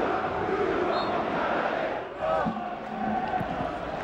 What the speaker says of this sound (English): The crowd responding to the efforts of the home side.